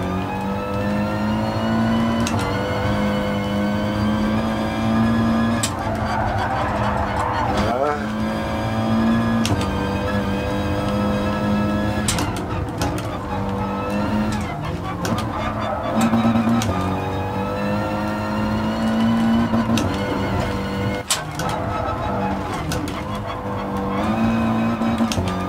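An Audi TT Cup race car laps the Nordschleife in GT Sport, its engine revving and shifting through gears with rising and falling pitch, brief tire squeals, and a voice talking over the driving.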